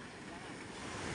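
Waves wash over sand on a beach in a steady, dense roar of surf and wind that fills the whole moment without a break.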